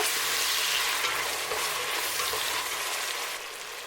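A peanut soup base for Cameroonian groundnut soup fries in a pot with occasional stirring, giving a steady, close, dense sizzle that runs unbroken from start to finish with no voices.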